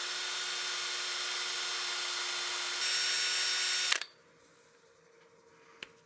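A whining, steady motor hum of a wood lathe spinning a partially seasoned wooden bowl during grit sanding, with a sharp pitch shift partway, then spinning down abruptly into quiet with a single click afterward.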